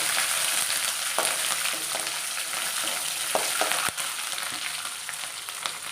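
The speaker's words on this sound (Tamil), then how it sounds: "கருவேப்பிலையும் பச்சை மிளகாயும் சேர்த்துக்கலாம்." Curry leaves and green chillies crackle in hot oil for sago upma, a constant near sizzle with a few sharp pops and occasional stirring knocks.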